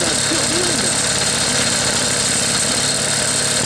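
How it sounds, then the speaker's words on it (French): Solex 6000 moped engine idling low after restoration, a steady close-up mechanical drone with constant vibration for several seconds, no clear talk over it. "Le ralenti est beaucoup plus bas. Le moteur vibre vachement."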